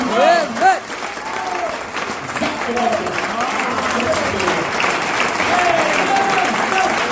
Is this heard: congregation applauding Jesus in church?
yes